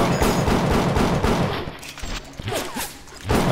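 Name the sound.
gunfire in the Bioshock video game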